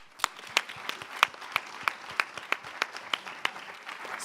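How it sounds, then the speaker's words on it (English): Audience applause at a panel event on the future of work, a steady run of sharp individual claps at a regular rhythm, fairly close and moderately loud, with no talking over it. "So a huge round of applause for you for being with us."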